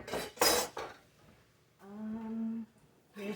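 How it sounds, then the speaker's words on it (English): Dishes and cutlery are moved aside in a home kitchen, with two clattering knocks at the start and another at the end. A sustained ringing tone sounds in the middle. "Move my dishes aside."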